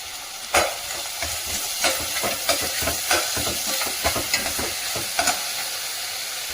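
Dill leaves frying in a pan with onions for sabsige soppu uppittu, a close, steady sizzle broken by repeated scraping strokes of a spatula against the pan, with no voices.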